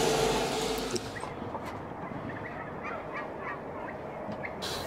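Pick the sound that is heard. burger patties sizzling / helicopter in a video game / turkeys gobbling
turkeys gobbling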